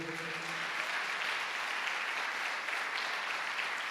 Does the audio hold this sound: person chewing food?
no